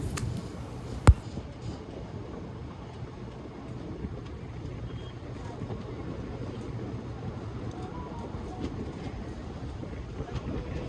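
The Kakatiya Express (17660) rolls along after departing Aler station in India, a steady low rumble of wheels and carriages heard from inside, continuous and moderate, with one sharp click near the start.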